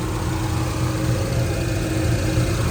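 A 1966 Chevrolet Chevelle engine with MSD HEI ignition idles steadily, a low even rumble with a faint hum, close by and uninterrupted.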